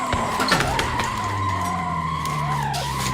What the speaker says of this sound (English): He drifted the entire Nurburgring, which is just absolutely crazy.